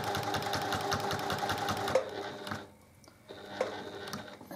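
A home sewing machine stitches along a seam in a quilt block, running in a rapid, steady mechanical chatter for about two seconds, then stopping, followed by brief quieter mechanical sounds.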